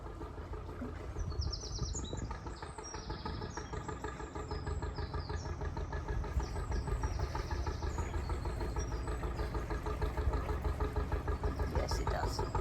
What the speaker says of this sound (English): Sound of an old engine coming along.